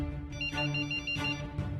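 A person mimics a mobile phone ringtone with their mouth, producing a repeating, steady, tonal ringing pattern in short pulses, up close and with no other talk.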